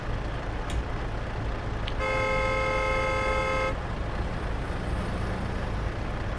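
A single long car horn blast sounds for nearly two seconds in Euro Truck Simulator 2 on the RusMap, loud over the continuous low rumble of a Mercedes Actros truck cab, with a brief tone just before.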